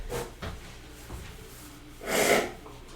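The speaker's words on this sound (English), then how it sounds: "And I have to blow my nose 1 second." A person blows their nose during a casual indoor session, with a few short snorting puffs early on and then one longer, louder honking blow near the end, close and without talk.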